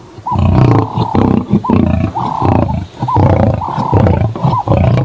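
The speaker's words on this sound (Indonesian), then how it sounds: "Widih, singa." A lion roars in a series of deep, loud, close bellowing calls, repeated in rhythmic bursts with short pauses between them.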